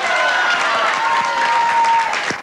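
Studio audience applauding at a Venezuelan TV comedy show, dense steady clapping filling the whole stretch with crowd noise and a faint voice or whistle tone running underneath.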